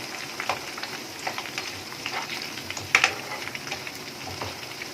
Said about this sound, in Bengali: এইভাবে এখন ভেজে নেব।